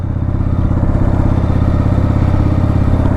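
A custom Harley Davidson Sportster runs close by with a loud, even, rapid thumping beat that holds steady throughout.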